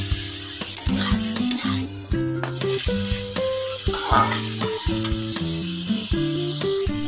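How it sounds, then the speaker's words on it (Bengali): Carrots frying in a pan give a steady, close sizzle with light crackles, heard under a stretch of melodic background music. "গাজর একসাথে ভাজা করে নিচ্ছি"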